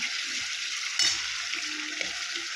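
Onions sizzle steadily in a hot pan while mushroom masala is being cooked, a loud, constant frying hiss with a brief stir or clink partway through and faint movement underneath.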